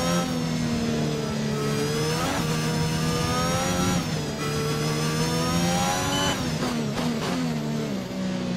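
Racing car engine in a racing video game, revving hard and climbing through the gears on the Portugal circuit, a loud continuous whine with pitch rising and dropping at each shift.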